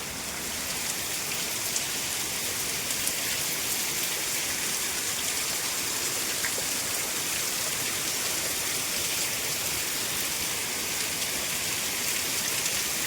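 Steady rain pours down in a village, a dense, even hiss of drops on surfaces that holds unbroken at the same loudness throughout, with no voices.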